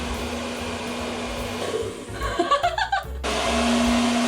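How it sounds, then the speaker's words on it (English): A blow dryer hums steadily, briefly interrupted by a few choppy bursts before the loud whirring airflow resumes. "I'm gonna test it using a blow dryer."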